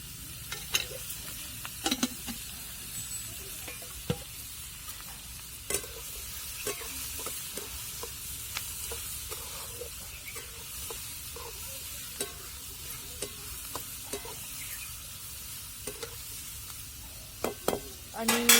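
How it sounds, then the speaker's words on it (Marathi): Chopped onion sautés in oil in a pan for a potato chutney, with a steady low sizzle and frequent scraping clicks and knocks of a spoon stirring, all fairly close. "कांद्यामध्ये थोडं तेल टाकून कांदा चांगला परतून देणार आहे"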